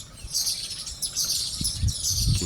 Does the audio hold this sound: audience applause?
no